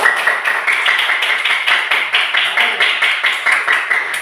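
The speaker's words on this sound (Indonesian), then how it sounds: "tepuk tangan dulu nilainya bagus" Students in a classroom clap their hands in a steady, lively rhythm of distinct claps, close and fairly loud, continuing without pause throughout.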